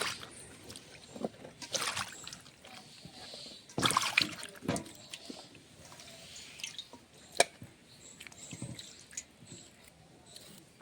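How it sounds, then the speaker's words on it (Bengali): Cut cauliflower being washed in water, intermittent splashes, drips and sloshes of hands moving the pieces, close and fairly quiet with pauses between. "কপিটাও কাটা হয়ে গেছে, ধুয়ে নিচ্ছি।"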